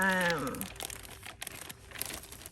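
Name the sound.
plastic Ziploc bags being handled, crinkling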